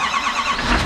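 A stock 2020 Duramax diesel pickup truck engine turns over and catches into a steady, loud, rumbling idle that fills the short stretch without pause, heard close with no voices.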